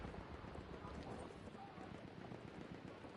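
Horses galloping in a multiplayer war video game during a capture-the-point match, a steady fast clip-clop of hooves mixed with wind and battle noise under faint talk.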